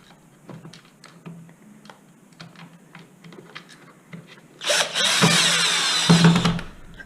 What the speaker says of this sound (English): not being too rough with the drill, just letting it sit back without stripping it through the housing